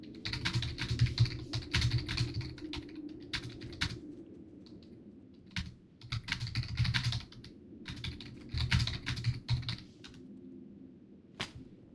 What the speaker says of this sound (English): I'm just typing what we just read.